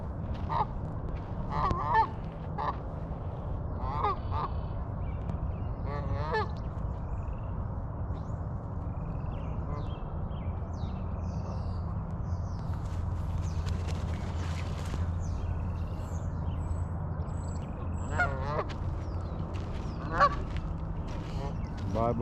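Geese honk repeatedly at Barr Lake, Colorado, scattered calls over a steady low outdoor rumble and background chorus, some near, some farther off.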